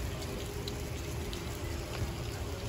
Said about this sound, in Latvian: Tagad sāka līt ārā.